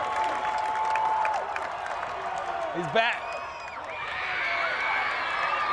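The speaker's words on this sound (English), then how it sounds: "You got the Central crowd up and cheering." High school football crowd at Central's Friday night game against Maize cheering and applauding steadily throughout, a swell of whoops rising near the end, with a commentator talking over it.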